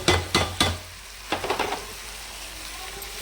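Tomato pieces added to softened capsicum in a pan for a capsicum-tomato curry, with a few sharp spoon-stirring scrapes over a faint sizzle, then a short burst of clattering stirs before it settles to a quiet simmer.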